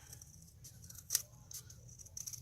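Scissors snip through paper or card in a few quiet, close, crisp cuts spaced across a couple of seconds while crafting Halloween candy decorations, with no talking.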